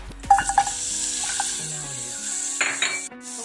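Chicken pieces frying in olive oil in a pan, with a steady sizzle alongside clinks and scrapes of cookware and utensils, heard up close and without speech.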